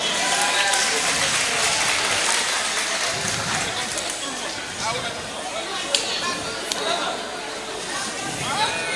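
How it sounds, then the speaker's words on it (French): Crowd applause and cheering at a political party general assembly, as a vice-president arrives, a dense steady wash of clapping mixed with crowd chatter and loud voices throughout. "on applaudit très fort."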